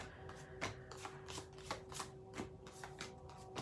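Ascended Master oracle cards are handled and shuffled close up, a quiet run of short crisp riffling flicks repeating in an uneven rhythm, with no voices.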